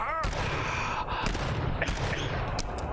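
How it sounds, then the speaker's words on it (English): Gunfire in the survival horror video game GTFO, rapid continuous shots and bursts filling the moment, loud and dense, with players' voices mixed underneath. "I'm gonna run out of bullets."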